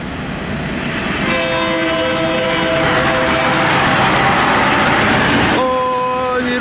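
A KIHA 183 diesel train rounds the Bang Sue curve. Loud rumble and wheel noise build near the mic, with sustained horn tones sounding through the middle and again near the end.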